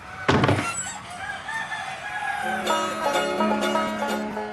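Broiler chickens in a chicken shed clucking and squawking close by, with a rooster crowing loudly near the start and a steady hum of the flock throughout.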